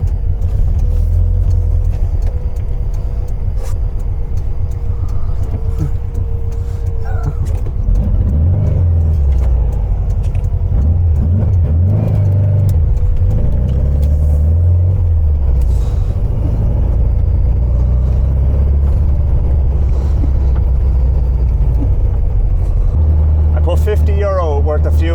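VW Beetle engine pulling away and driving, a low rumbling drone heard from inside the car that climbs and falls through gear changes, with someone talking over it.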